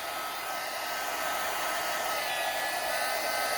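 A heat tool blows a steady, loud whooshing stream of hot air onto a handmade card, continuous and close with no talk.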